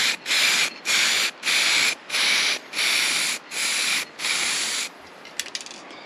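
An aerosol spray paint can hisses in seven even, regular bursts with short gaps between them, close and loud, followed by a few faint clicks.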